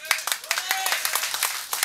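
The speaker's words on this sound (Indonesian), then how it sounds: "Semangat sedikit bagi tepukan lah Pak." Audience at a rally clapping in scattered, irregular bursts at close range, with voices talking over the claps.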